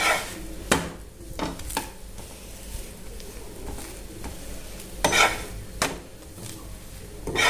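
A masala paratha with onion and coriander is pressed down and roasted on a hot pan. A quiet sizzle runs under sharp scrapes and knocks of the spatula against the pan, which come at irregular moments.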